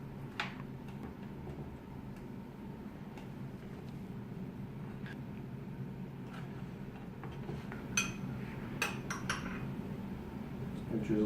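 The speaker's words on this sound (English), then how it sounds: "I'm just going to lay these out on the baking sheet here." Beet slices being laid out one by one on a metal baking sheet, making light, scattered clinks and taps over a steady kitchen background hum, with a few brighter metallic knocks near the end.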